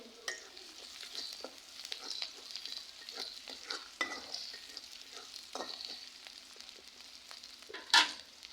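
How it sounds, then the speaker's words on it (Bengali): Chopped onion and green chillies frying in oil in a pan, a continuous sizzle broken by repeated stirring scrapes and a sharp utensil clack near the end. "আমি এখানে তেল দিয়ে দিলাম কাঁচামরিচ পেঁয়াজ দিয়ে দিলাম আর ভালোভাবে একটু ভাজা ভাজা হলে"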